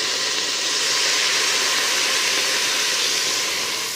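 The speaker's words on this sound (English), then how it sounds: "we just deglaze that with our white wine and you'll hear it sizzle" Loud, continuous hissing sizzle of white wine deglazing a hot pan while braising lamb, steady throughout with no voices.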